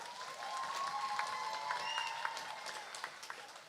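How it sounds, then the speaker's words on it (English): A live audience applauds at a Catholic school event, dense sustained clapping with scattered cheers and a faint high tone running through it, steady and fairly close throughout. "Let's give them a round of applause."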